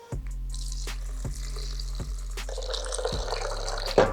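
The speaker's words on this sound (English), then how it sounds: "Water into blender." Water pours steadily into a blender, a continuous splashing rush with a few knocks and clunks along the way, close and alone.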